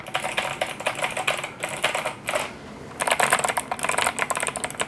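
Rapid clicky typing on an 8BitDo C64 Edition retro mechanical keyboard with blue switches, close and crisp, in bursts with a couple of short pauses between them.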